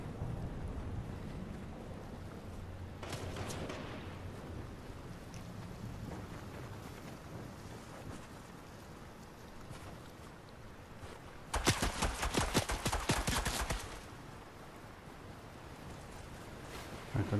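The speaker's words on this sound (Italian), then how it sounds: "Ecco, adesso ci sparano" Enemy gunfire in the Fortnite video game: a short burst near the start, then a dense, louder volley of rapid shots lasting about two seconds midway, over a steady wind-like background roar.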